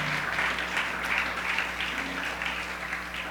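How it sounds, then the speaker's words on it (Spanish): A church congregation applauds during a sermon: soft, even clapping spread across a room for a few seconds, fairly distant and quiet over a low background hum. "dale un aplauso a nuestro Creador"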